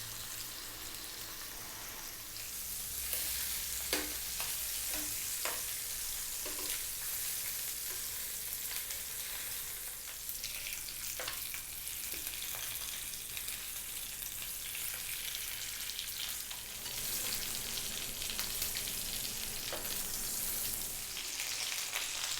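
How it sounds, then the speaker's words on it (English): Marinated tarragon garlic chicken fries on medium heat in a pan, a steady, close sizzle with occasional clicks and scrapes as the pieces are turned over. "So medium heat, and I'm just going to be turning these over"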